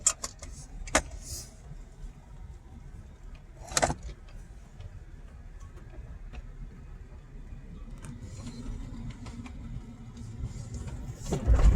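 Low, steady rumble of a Nissan Xterra engine at crawling speed as it eases down a drop on an Oregon off-road trail, with occasional rattles, clanks and jangling from inside the cab.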